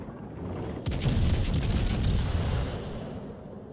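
Naval gun salvos in World of Warships Legends: a heavy, booming, close blast with a deep rumbling tail that swells and slowly fades, no voices.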